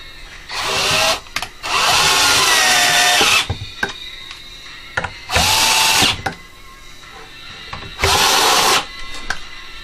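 A power drill whirs loudly in four bursts of a second or two each while taking apart a Bose Acoustimass 2.1 speaker, with pauses between and small clicks and handling noises in the gaps.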